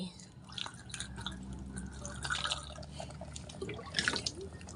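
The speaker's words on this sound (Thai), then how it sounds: "ใส่น้ำเกลือ ใส่น้ำเกลือให้เต็มขวดเลยนะ นี่ มันมีจะมีฟอง" Salty brine is poured into a bottle of sour bamboo shoots, a gurgling, bubbling trickle of liquid filling the bottle close by while someone talks over it.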